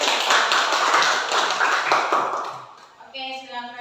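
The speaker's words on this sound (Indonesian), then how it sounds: "berikan tepuk tangan dulu" A classroom group claps together for a short burst lasting under three seconds, then the clapping fades out and a voice starts speaking.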